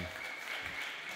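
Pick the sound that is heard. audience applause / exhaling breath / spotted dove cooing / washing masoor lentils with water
audience applause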